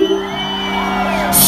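Crowd of samba school members shouting and whooping at a technical rehearsal in São Paulo's Brás district, a sustained loud mass of voices with a steady drum-like low layer beneath.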